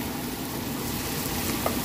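Vegetables soften in a pan with butter, giving off a steady, close sizzle that fills the short moment without any talk.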